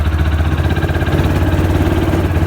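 A Kawasaki Mule utility vehicle's engine runs close and loud with a steady, low, throbbing idle-like rumble.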